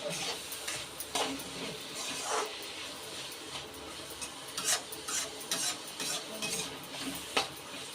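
Onions, green chillies and tomato fry in a pan for a village-style gongura chicken curry, giving a steady close sizzle with scraping and rubbing stirs throughout, no talk.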